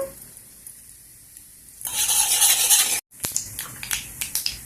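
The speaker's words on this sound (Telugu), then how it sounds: "ఆయిల్ వేడి అయిపోయింది ఆల్రెడీ నేను వేసేసినాను జీలకర్ర ఆవాలు ఉద్ది వేసినాను" Cumin, mustard seeds and urad dal hit hot oil in a pan with a sudden loud sizzle that holds for about a second, then breaks into crackling pops and spits as the seeds fry.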